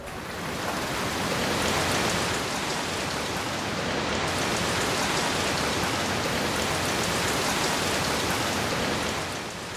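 Heavy rain pours down steadily and densely, a loud continuous hiss of drops striking surfaces with no break or voices.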